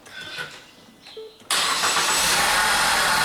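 A Ford Focus cranks and fires up after a starter repair: quiet clicks and brief sounds first, then the engine catches abruptly and settles into a loud, steady run.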